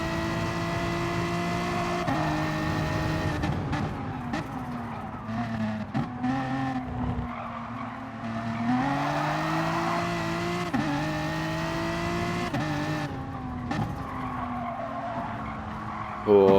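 Race car tires squeal and skid through oversteer in a racing game replay at Blue Moon Bay, a steady engine drone with wavering squeals across the clip and race commentary talking over it.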